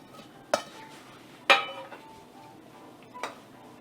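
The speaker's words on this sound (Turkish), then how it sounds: "Şimdi baharatlarımızı, salçamızı iyice karıştırdık bulgurumuza." Utensil clinks against a bowl while bulgur is mixed with spices and tomato paste for kısır, three sharp metallic knocks spaced apart with quiet stirring between.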